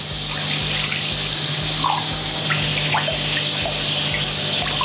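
Water pours steadily into a tomato paste dressing in a kitchen, a continuous close trickling splash with no talking.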